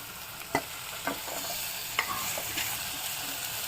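Tomato tipped into a hot pan of sautéed chopped potato and beans for masala rice, giving a steady close sizzle with a few sharp clatters and stirring scrapes near the start, no voices.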